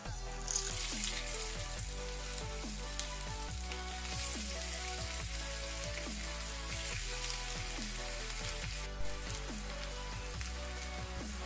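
Spinach and potato snacks bubble and sizzle in hot oil, a dense steady crackling frying sound running continuously throughout without talk.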